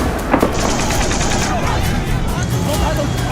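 Gunmen fire indiscriminately after breaching the Gaza–Israel barrier, producing dense, continuous bursts of loud automatic gunfire with voices mixed in throughout.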